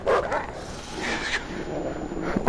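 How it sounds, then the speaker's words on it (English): A dog in the horror game Until Dawn barks and whimpers in short, loud bursts at the start and end, with noisy game ambience between. "Good doggy boy, calm down"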